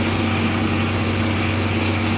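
A tractor engine runs steadily and loudly while drilling wheat in a field, a constant droning hum with no pauses and no talk.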